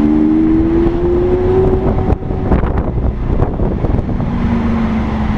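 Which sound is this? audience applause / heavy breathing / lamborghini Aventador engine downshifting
lamborghini Aventador engine downshifting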